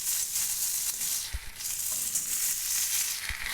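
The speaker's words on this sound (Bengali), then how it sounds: "একে একে সমস্ত সবজি দিয়ে আগে একটুখানি ভেজে নেব" Mixed vegetables for a pumpkin-greens curry fry in a little oil, giving a continuous bright hiss of sizzling. Two faint low knocks from the pan break through it.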